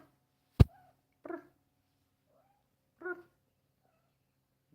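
A pregnant mother cat gives a few soft, brief meows, three quiet calls spaced apart in a still room, with a sharp click near the start.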